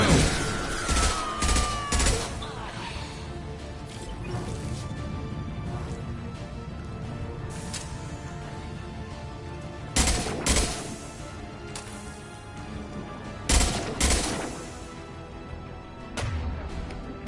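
Rifle fire in the Mass Effect video game: bursts of shots in clusters near the start, around ten seconds and at fourteen seconds, over a steady game ambience with no talk.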